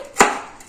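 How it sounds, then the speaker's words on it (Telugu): A single sharp knife chop on a cutting board while slicing vegetables finely for the tempering of a restaurant-style dal, close and brief with a quick fade. "ఎంత సన్నగా తరిగితే అంత బాగుంటుంది"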